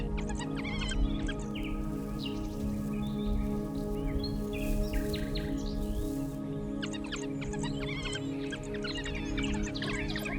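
Wild birds chirping on the African savanna, scattered quick tweets in bursts over a humming background, faint and somewhat distant.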